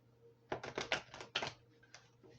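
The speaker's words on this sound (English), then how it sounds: "as I'm shuffling the deck" A short burst of quick riffling clicks, the rapid flutter of a tarot deck being shuffled, close and fairly quiet.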